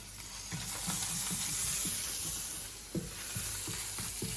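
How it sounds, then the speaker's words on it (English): Garlic sautéing in leftover oil in a pan, a steady soft sizzle and hiss with faint stirring scrapes, heard close and quiet on its own. "Just saute it really quick."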